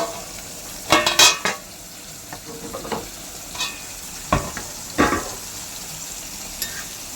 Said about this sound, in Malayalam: നമുക്ക് തോരനൊന്ന് ഇളക്കി കൊടുക്കാം